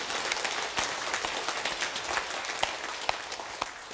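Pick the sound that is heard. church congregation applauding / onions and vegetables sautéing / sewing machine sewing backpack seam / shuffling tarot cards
church congregation applauding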